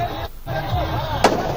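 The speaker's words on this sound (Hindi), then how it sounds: "पटाखों की गूंज और आतिशबाजी के बीच रावण दहन किया गया।" Firecrackers and fireworks pop around a burning Ravana effigy at a Dussehra celebration, a continuous crackling crowd-scene din with one sharper burst near the end.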